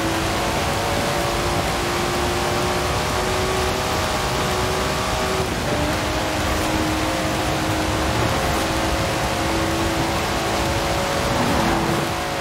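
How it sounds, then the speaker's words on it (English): Datsun car engine in the Forza Horizon 4 racing game, a steady, loud droning rev that holds and shifts pitch slightly throughout, with no talking. "Listen to that. Never heard a Datsun sound like that"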